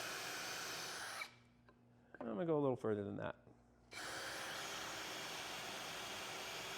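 A power drill with a Forstner bit whirs steadily into wood, falls silent while someone speaks briefly, then starts boring again at the same steady pitch.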